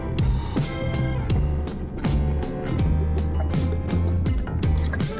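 Alkaline water pours and glugs from a bottle close by, with a rhythmic series of gulping, bubbling drips repeating over several seconds.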